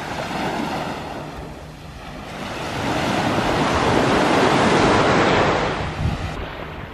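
Surf rolls onto an empty Caribbean beach on Nevis, a loud continuous wash that swells and recedes, with wind buffeting the microphone throughout.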